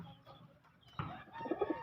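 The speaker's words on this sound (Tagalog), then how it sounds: "ayan, mga ibon natin." Pigeons coo softly nearby, a few low, throaty calls rising toward the end amid faint rustling.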